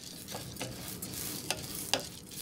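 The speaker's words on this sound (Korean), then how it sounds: "쌀을 노랗게 볶는 것으로 시작되는데요." Rice stir-roasted in a pan until golden, the first step of making Tongyeong yakgwa, gives a steady soft sizzle with a few sharper scraping stirs standing out over it.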